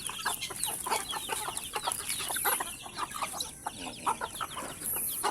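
Chickens, native free-range, cluck in quick, scattered bursts, a few birds close by, including a white hen, with soft background noise and no talking.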